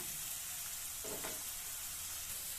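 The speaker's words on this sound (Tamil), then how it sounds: "உப்பு சேர்த்து 1 நிமிஷம் வதக்கணும்." Finely chopped onions with salt sautéing in a pan for a broccoli pepper fry, a faint steady sizzle with a brief stirring scrape partway through, no talking.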